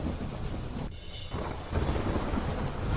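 Heavy rain pours down in strong wind during an early-morning storm, a loud, continuous dense roar with gusty surges and no voices.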